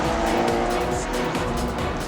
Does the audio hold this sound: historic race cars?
yes